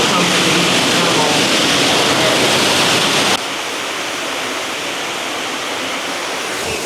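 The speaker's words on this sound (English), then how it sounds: "Right there, behind the curtain of waterfall." A spa waterfall curtain pours steadily into a heated thermal pool aboard an MSC ship, a loud continuous rushing splash that suddenly drops to a quieter, duller wash halfway through.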